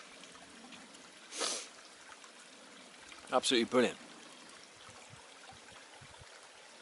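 A small woodland stream runs steadily among wild garlic, its soft continuous rush low and fairly distant, with one brief louder gush early on; someone speaks a short phrase over the water partway through.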